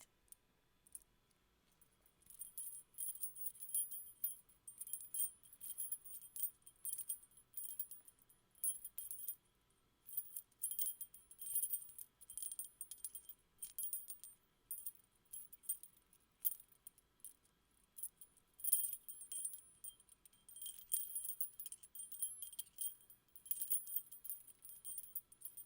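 A bunch of keys jangles and clinks close by in repeated bursts of rattling metal, with short pauses between shakes and no talking.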